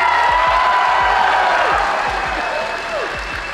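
A theatre crowd at the SMASH 2023 convention in the Piedmont Theatre bursts into loud, steady applause with cheering and whoops, a dense wash of clapping that slowly eases off toward the end.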